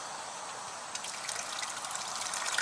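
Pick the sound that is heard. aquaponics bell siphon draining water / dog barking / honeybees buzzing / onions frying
aquaponics bell siphon draining water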